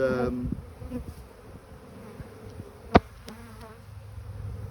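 Honeybees buzz steadily at close range over a brood-filled frame during a spring hive inspection, the hum low and continuous, with a sharp knock of frame or tool near the middle.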